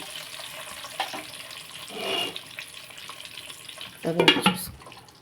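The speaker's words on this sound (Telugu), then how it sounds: "గుడ్లు ఇలా వేపిస్తాం" Eggs frying in a pan give a soft, uneven crackle at low level, swelling into a louder burst of sizzling and spattering near the end.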